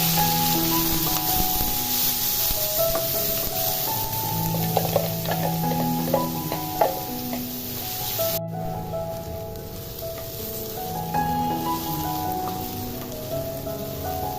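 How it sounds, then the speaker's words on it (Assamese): Onion paste frying in a pan, a steady crackling sizzle with occasional stirring scrapes, close and continuous, with soft background music and no talking. "এয়া পিঁয়াজখিনি সুন্দৰ মজি গ'ল"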